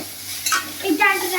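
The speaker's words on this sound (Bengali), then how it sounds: "ভেজে নিচ্ছি।" Fish pieces frying in a pan for a malai curry, giving a steady near sizzle with a stirring scrape partway through and no talk over it.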